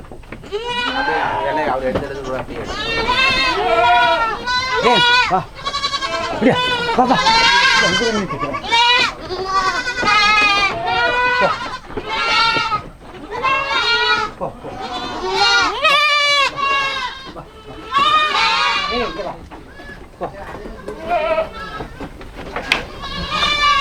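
Goats and young kids bleat constantly on a goat farm, many overlapping calls close by and loud, while a person talks over them throughout.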